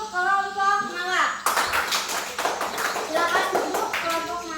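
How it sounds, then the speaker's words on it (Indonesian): A classroom of children claps for a student group, a burst of brisk, uneven hand clapping that breaks in between stretches of a teacher talking. "Tepuk tangan lagi untuk kelompok malam."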